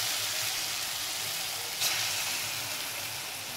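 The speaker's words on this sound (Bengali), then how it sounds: "এরকম ছোট ছোট করে বড়া ভেজে নিচ্ছি।" Small pea lentil fritters (bora) frying in hot oil, a continuous even crackling sizzle heard close up, with one brief louder spatter midway and no voices.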